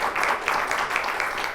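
Audience applause, a crowd clapping in a continuous, fairly distant wash of overlapping hand claps that holds steady throughout.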